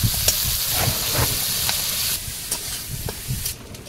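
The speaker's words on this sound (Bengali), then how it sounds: "এবারে এর মধ্যে পেঁয়াজ, রসুন, আদা আর কাঁচা লঙ্কা সব দেব।" Onion, garlic, ginger and green chilli fry with potatoes in hot oil, giving a continuous loud sizzle and hiss, with occasional spatula scrapes and stirring bumps breaking through as the mixture is moved about.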